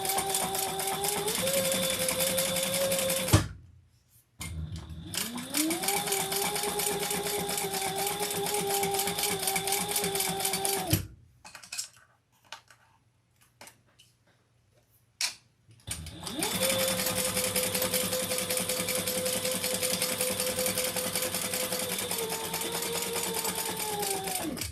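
A sewing machine basting fabric pieces together runs in loud, steady stitching bursts, stopping twice with short quiet gaps before starting up again.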